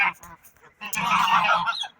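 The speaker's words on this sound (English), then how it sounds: "they're just yelling because they want to yell because they're geese" Geese honk close by in a winter yard, a few short calls followed by a louder burst of overlapping honking and clamor from the flock.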